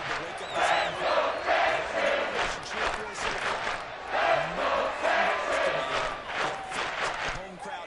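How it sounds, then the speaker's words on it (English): A home crowd at an American football game roars and cheers in a large stadium, a loud sustained wall of voices that swells and dips in waves, with shouting and whistles mixed in. "That might be exactly what he needed to wake up this home crowd."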